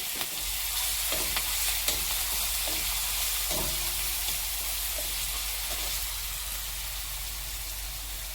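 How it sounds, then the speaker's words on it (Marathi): Crushed green chilli thecha with cumin frying in hot oil for a hadga flower vegetable dish, a strong continuous hiss with a few sharp spatula taps early on, then settling into a steady sizzle, without any talk. "आपण केलेला हा मिरचीचा ठेचा ठेचा एक ते दोन मिनिट आपण परतून घेणार आहे"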